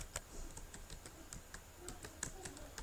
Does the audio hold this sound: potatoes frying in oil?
no